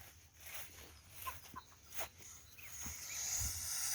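Outdoor farmyard geese calling in short honks and clucks, scattered over steady background noise, a few calls standing out nearby.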